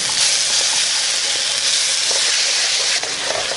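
Tofu mix sizzles loudly in a hot pan as it is stirred, a steady close hiss with no pauses.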